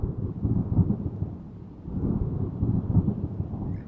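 A thunderstorm sound effect brings two rolling swells of low thunder rumbling over a soft bed of rain, fairly loud and continuous.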